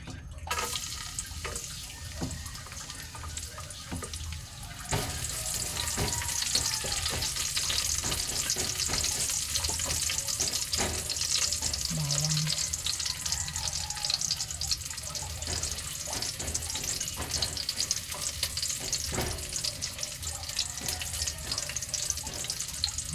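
Garlic fries in a pan, a faint quiet start giving way at about five seconds to a steady, bright sizzle that continues evenly, with no talk.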